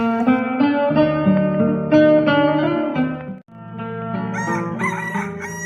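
A rooster crows loudly nearby, a long drawn-out call that breaks briefly and then resumes with a higher, strained finish.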